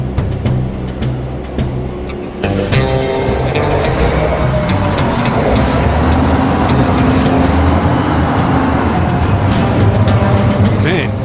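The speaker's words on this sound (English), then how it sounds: "Bernie conducts the 19 16-cylinder, 100-ton diesel engines in a throbbing symphony, building up through the gears." Nineteen 16-cylinder, 100-ton diesel locomotive engines throb together in a dense, loud, continuous rumble that builds steadily as they work up through the gears, with a voice narrating over it.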